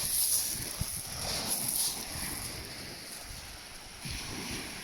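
Steady wind buffets the microphone at a seaside sea fishing spot on the UK coast, with a faint wash of waves and occasional thumps, and no voices.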